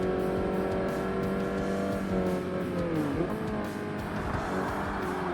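A race car with an upgraded exhaust in the video game Forza Motorsport howls continuously at high revs, its engine note sweeping up and down through gear changes with a hint of tire squeal, loud and steady throughout.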